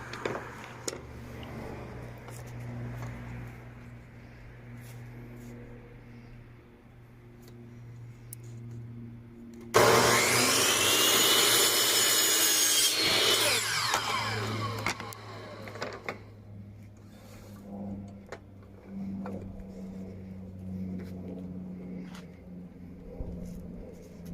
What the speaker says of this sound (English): we're about to use the miter saw to cut these pieces